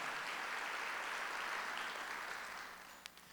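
A Korean church congregation gives a round of applause during a Sunday worship service, a broad, steady wash of clapping that fades out near the end, with a single sharp clap after it dies away.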